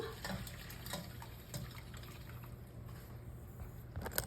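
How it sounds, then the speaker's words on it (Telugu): Water from soaked jowar flour is poured through a strainer into a bowl, a faint, quiet trickle with small splashes and drips running throughout. "ఈ వాటర్ని నేను జల్లిగంట తీసుకొని ఒక బౌల్లో అయితే వంచేసుకుంటున్నాను"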